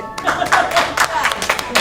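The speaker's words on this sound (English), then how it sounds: "Round of applause." Audience applause breaking out at a community recreation commission meeting, a short patter of clapping from a modest crowd, fairly close and under a voice speaking.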